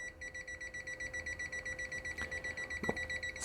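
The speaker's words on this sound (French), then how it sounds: "elle commence à biper et plus je me rapproche" A UNI-T UT210E clamp meter held near a live conductor gives off a rapid, regular train of high electronic beeps, faint and close, with a couple of small handling clicks toward the end.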